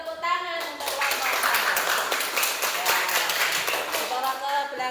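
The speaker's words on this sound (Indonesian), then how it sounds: "Beri tepuk tangan untuk kelompok." A classroom group claps for a children's group presentation, a brisk burst of many hands clapping at close range, with children's voices talking over and around it.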